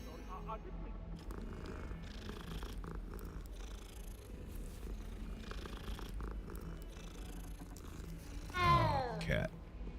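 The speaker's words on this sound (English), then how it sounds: "Cat." A cat in the video game Hogwarts Legacy purrs in a low, steady, continuous rumble, close and fairly quiet. A short meow comes near the end.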